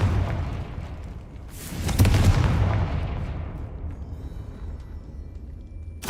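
A booming explosion from a Confringo spell cast inside a tomb in a video game bursts out suddenly, then rumbles and fades slowly over several seconds, with a faint low hum beneath.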